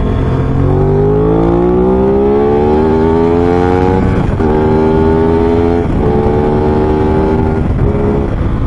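A 2021 Aprilia RS660 middleweight sportsbike accelerates hard in second gear, its engine note climbing steadily in pitch with brief dips at gear changes, loud and close throughout.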